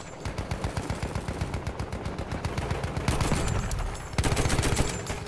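Rapid automatic gunfire from the Battlefield 1 open beta on Xbox One, bursts of sharp repeated shots in steady rhythm, louder and denser toward the end, with no talk.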